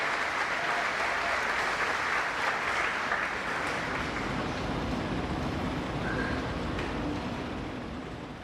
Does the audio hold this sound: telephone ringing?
no